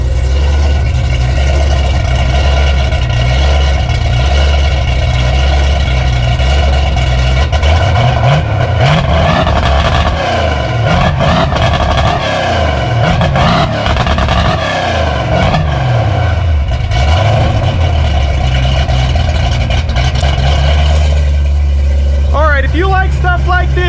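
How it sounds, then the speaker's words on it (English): A Foxbody Ford Mustang engine after a fuel pump replacement, heard loud and close with a steady idle rumble and repeated rising and falling revs through the middle, then settling back to idle. "You want me to rev it? I'll rev it."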